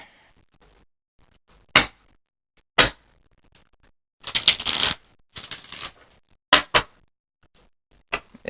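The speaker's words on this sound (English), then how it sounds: "Let's shuffle one more time." Tarot cards are shuffled in a few quick, crisp bursts, with short riffling runs and taps separated by quiet pauses, close and moderately loud.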